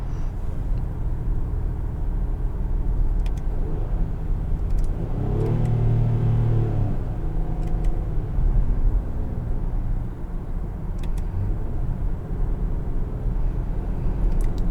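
A 2022 Infiniti QX60 SUV engine blipping its revs on paddle downshifts, a rising and falling drone heard from inside the cabin under a steady road rumble, with one clear rev swell near the middle.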